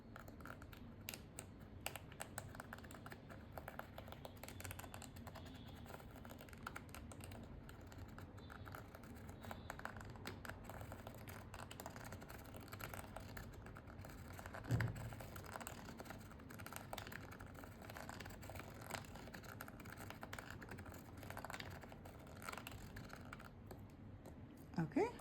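A plastic spirograph wheel turning inside an outer frame as a pen draws, steady faint clicking and scratching ticks throughout, close and quiet, with a voice speaking at times.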